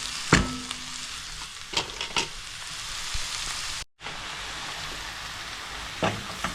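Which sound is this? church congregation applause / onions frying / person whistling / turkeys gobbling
onions frying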